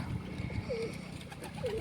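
Two short soft coos from a pigeon at its nest with two eggs, spaced apart, over a low steady background hum with faint rumbling.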